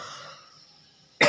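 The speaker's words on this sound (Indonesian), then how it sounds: "Sorry, agak batuk ya." A single sharp cough bursts out at the very end, close and loud, following a quiet, fading hum.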